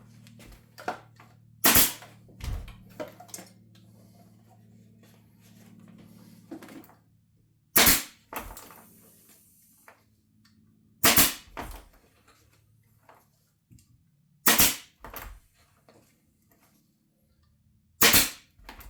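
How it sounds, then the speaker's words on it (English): Sharp staple gun shots driving staples into fabric while upholstering, about six loud snapping bangs spaced a few seconds apart, with soft handling noise in between. "Try to hold your staple gun a little bit further away so the staple sets"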